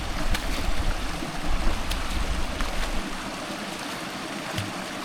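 A dog named Lassie splashing through water on Dartmoor, a broad rushing, sloshing wash of water with a few sharper splashes near the start, close by and steady, no voices.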